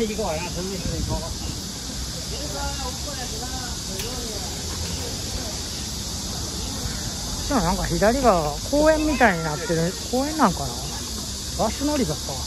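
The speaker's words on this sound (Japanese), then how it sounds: "このセミの鳴き声が聞こえる通り" Summer cicadas drone steadily along a busy street in Shanghai, a constant high buzzing bed throughout, while someone talks over it.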